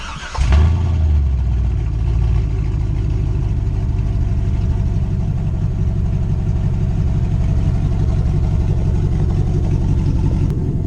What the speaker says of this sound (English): This truck's got true dual, no cats, with an X pipe going to little short, like 12-inch cherry bomb glass packs.